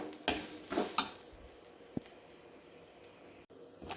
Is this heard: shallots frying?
yes